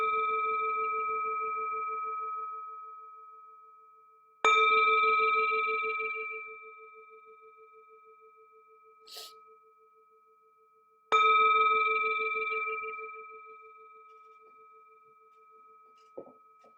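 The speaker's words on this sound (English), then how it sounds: "The sound of this beautiful bell returns us to our true home." Two clear strikes of a singing bowl or meditation bell, each ringing out with long, sustained tones that slowly fade into quiet, plus a faint tap.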